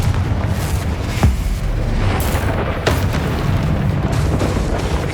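Spell blasts from a fire-blast charm in the wizarding video game Hogwarts Legacy, a dense run of booming explosions and sharp pops layered over continuous loud combat noise, with brief bursts standing out near the start and middle.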